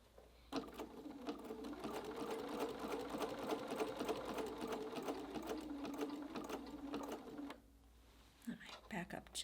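A sewing machine stitches a jelly roll tote strap in one sustained run of rapid mechanical clatter with a humming motor, stopping near the end before a few brief clicks, with a voice talking over it.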